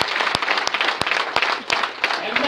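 Applause from a seminar audience listening to a network-marketing talk rises as a steady wash of clapping, with a few sharp, louder claps standing out at intervals.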